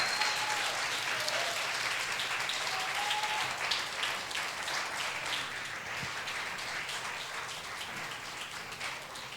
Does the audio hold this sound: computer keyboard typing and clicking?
no